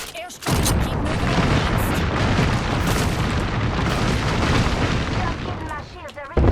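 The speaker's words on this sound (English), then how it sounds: "Airstrike." An airstrike in the video game Apex Legends produces a dense, continuous barrage of loud booming explosions that rumble without a break for several seconds before cutting off abruptly.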